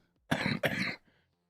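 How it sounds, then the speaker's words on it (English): Two quick, rough coughs back to back, fairly close and moderately loud, followed by quiet room tone. "Don't panic, folks. Don't panic. Just a cough."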